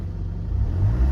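A Jaguar XE 2.0d diesel saloon with automatic gearbox idles just after starting, a steady close low rumble that swells slightly toward the end, with no talking.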